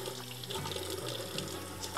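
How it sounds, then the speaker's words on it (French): Running tap water rinses the lower part of a Hurom juice extractor in a sink, a steady, close splashing stream with small shifts in flow and no talking. "Il suffit de le rincer. La partie du bas, on va rincer."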